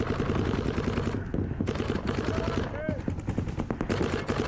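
Paintball markers fire in rapid, rattling strings during a practice game, dense and continuous with a few pauses, while a player talks over the shooting.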